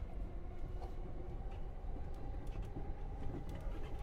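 Steady rumbling interior of a moving train on a short rail trip, a continuous low drone with faint rattles and clicks from the carriage, heard up close without speech.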